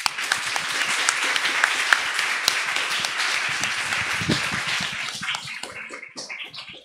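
Strong, sustained applause for author Frantzeska Mangel at a book presentation of «Kacharampou», a dense, even roar of many hands that thins into scattered individual claps at the close.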